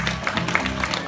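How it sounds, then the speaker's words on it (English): Crowd applause at an elephant show at Bali Safari Park as the elephant Della and her keeper come on stage, scattered clapping from many spectators with a few sharper claps, moderately loud and continuous. "please big applause."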